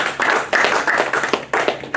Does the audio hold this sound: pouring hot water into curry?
no